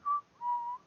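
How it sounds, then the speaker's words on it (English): Someone whistles innocently: two short, clear, soft notes, a brief first and a longer, slightly lower second, alone in quiet. "Whistles innocuously."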